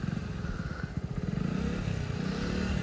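Motorbike ridden during a beginner's riding practice session, its engine a steady close rumble with uneven pulsing throttle throughout.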